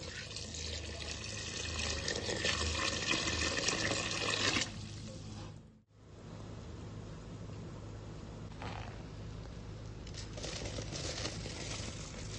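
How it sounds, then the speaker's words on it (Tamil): A bowl of water poured into soaked rice and mushrooms for mushroom biryani, a steady close splashing stream that briefly stops midway and resumes, with faint birds in the background. "நான் இதுக்கு 1 பவுல் தண்ணி ஊத்துதேன்"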